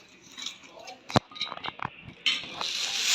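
A spoon works through a bowl of onion, lemon juice, cumin, salt and sumac, making scattered clinks and soft scrapes at close range, with one sharp knock against the dish and a rougher rustle toward the end.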